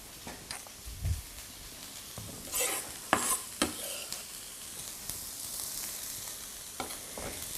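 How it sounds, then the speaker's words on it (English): Grated carrot and shredded cabbage sweating in a hot pan, with soft sizzling and several sharp stirring scrapes and clatters at close range, and no voices. "So we basically want to sweat these down"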